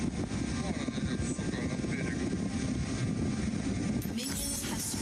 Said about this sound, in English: Oh, look, that's a helicopter.